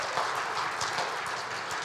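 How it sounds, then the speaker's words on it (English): Brief burst of audience applause at a Reform Jewish gathering, a dense wash of clapping that fills the short moment at moderate level. "that's worth an applause"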